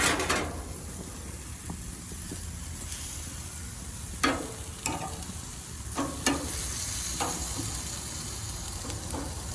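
Tegu meat browning in a frying pan, with a steady close sizzle and a few sharp scraping or stirring clicks scattered through it, and no talking.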